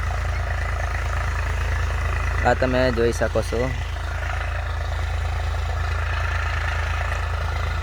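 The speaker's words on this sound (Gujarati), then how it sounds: "આપણું ટ્રેક્ટર ખેડવા માંડ્યું છે।" A 380 farm tractor ploughs a field, its engine a loud, steady low rumble that runs the whole time, with someone talking briefly over it.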